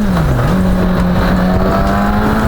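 A 2019 Suzuki Katana motorcycle engine pulls hard at high speed on a ring road, a loud, steady drone that dips briefly and then holds a rising, sustained pitch throughout, with continuous wind and road roar.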